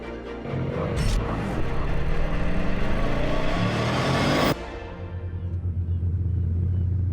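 A Bugatti Chiron engine rumbles loudly up close, its deep roar rising in pitch as it revs and then cutting abruptly to a low, steady idle burble.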